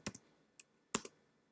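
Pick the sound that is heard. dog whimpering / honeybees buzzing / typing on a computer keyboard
typing on a computer keyboard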